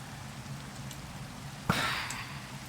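Rainfall in the Minecraft video game, a soft, steady hiss of drops throughout, with a brief louder burst of noise partway through.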